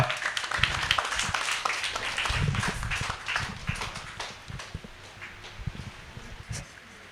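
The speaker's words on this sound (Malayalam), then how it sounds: "എല്ലാവരും ഒരു കൈയടി കൊടുക്കുക." An audience at a book release event for an autobiography claps steadily, with dense, uneven applause rising and falling throughout and a few louder claps near the end.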